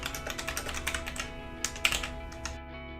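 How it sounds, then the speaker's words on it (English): Rapid, even typing on a computer keyboard, close and clear, with steady key clicks running for most of the moment before stopping abruptly, with no talk over it. "And then I can type out the answers or copy and paste."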